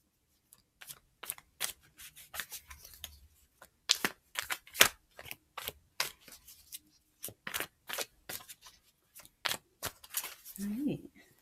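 Tarot cards being shuffled up close: a long run of crisp, irregular snaps and riffling flicks, some in quick clusters, with quiet pauses between and no talking.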